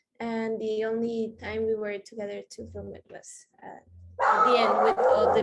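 A dog barks in short yips and whimpers that overlap a speaker's voice, followed by a louder, harsher burst of barking near the end.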